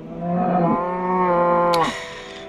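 A cow in Minecraft gives two drawn-out, harmonic moos in quick succession, loud and close, with no talking.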